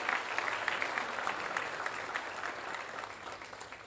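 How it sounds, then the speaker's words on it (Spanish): A church congregation applauds together, a steady wash of clapping that stays fairly even throughout and tapers slightly toward the end, with no voices rising above it. "¿Podemos soltar un aplauso por esa palabra, por estas verdades profundas?"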